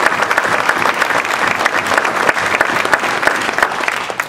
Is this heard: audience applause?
yes